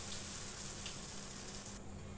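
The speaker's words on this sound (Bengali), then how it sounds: "পকোড়াটা ভাজা কমপ্লিট করে ফেললাম" Potato batter pakoras frying in oil, a faint, steady hiss of bubbling oil that cuts off near the end.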